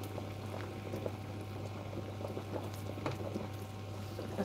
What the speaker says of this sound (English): just let it boil. And this one's starting to boil too